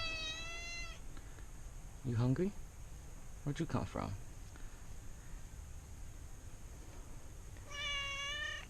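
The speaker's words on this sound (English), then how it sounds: "This is my boss's street cat." A stray street cat meows twice in close succession near the middle, moderately loud, while someone talks to it softly before and after against quiet background hiss.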